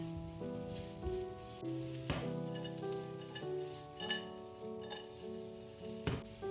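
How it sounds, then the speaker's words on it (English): Sliced carrots, ginger and garlic frying in a pan, a soft continuous sizzle with occasional clinks of stirring, faint and alone with background music. "Add in the sliced carrots and toss for a minute."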